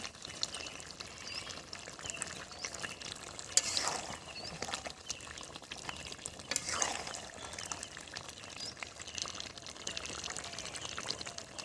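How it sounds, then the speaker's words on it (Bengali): Water poured into a pan of braised chicken curry made with gizzards, liver, skin and feet, a soft, continuous splashing pour with brief louder gushes, quiet and close. "এবারে আমি জল ঢেলে দেবো।"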